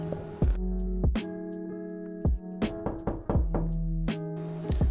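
Repeated knocking on a door from outside a hospital room: several sharp, separate raps spaced irregularly over a steady sustained musical drone.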